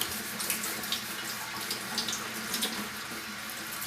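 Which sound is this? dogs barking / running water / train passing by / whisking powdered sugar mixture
running water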